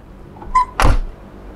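An old Mercedes G-Class door is closed gently, giving one soft, dull thunk close by, preceded by a brief light creak or click, with no talk.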